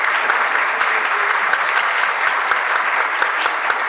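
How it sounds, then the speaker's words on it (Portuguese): An audience at a business summit on entrepreneurship in the financial market claps steadily and densely for a speaker. The applause is close and continuous, with no talking over it. "eu queria uma salva de palmas ao Paulo"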